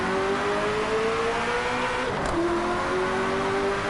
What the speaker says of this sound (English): also listen to this car in third person